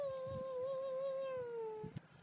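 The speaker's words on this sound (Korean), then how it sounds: "저게 냐옹이잖아" A single drawn-out cat meow, clear and steady for nearly two seconds, followed by a faint thump, in a horror-themed Roblox game setting.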